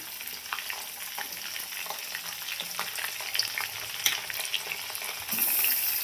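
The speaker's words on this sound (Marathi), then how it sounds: "आता त्याच्यामध्ये घेऊन टाकूया कांदा बारीक चिरलेला" Finely chopped onion sizzling and frying in a pan, a steady crackling hiss with occasional stirring scrapes, close and continuous, no voices.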